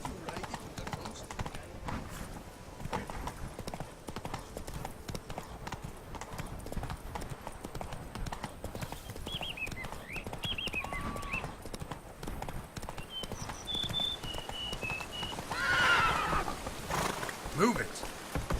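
Horse hooves clip-clop at a steady gallop in The Witcher 3: Blood and Wine, with an occasional whinny and a voice talking over the continuous game sound.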